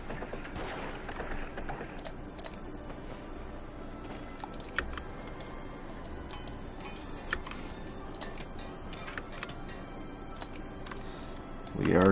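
Artillery fire in the strategy game Victoria 2 sounds as scattered sharp distant booms and cracks over a low background rumble, with a louder thump at the very end.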